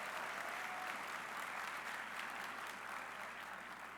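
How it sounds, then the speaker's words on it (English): Audience applause at a banquet honoring the Castillo family, a steady, dense wash of clapping from a large crowd lasting throughout without a break. "give them a round of applause to thank them for all they stand for"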